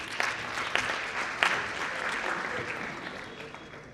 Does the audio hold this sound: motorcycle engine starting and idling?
no